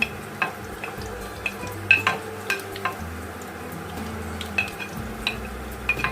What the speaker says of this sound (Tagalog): Na may mantika, gigisahin po natin ang ating sibuyas at bawang.